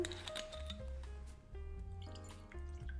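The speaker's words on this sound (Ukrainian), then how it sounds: "наливаємо водичку" Water pours into a glass with gurgling, rising tones, quiet and close, in a few short bursts.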